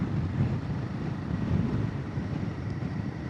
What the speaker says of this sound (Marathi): पण हवा जबरदस्त आहे